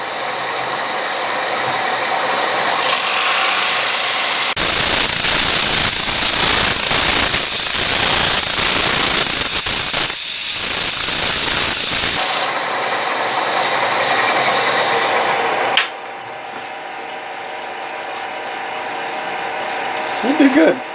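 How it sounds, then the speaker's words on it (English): Centrifugal sander working a wooden platter at 80 grit, a loud steady whirring drone with abrasive rasping that surges harder mid-clip, then eases back to a lighter whine before dropping to a quieter hum near the end. "we're going to use our centrifugal sander"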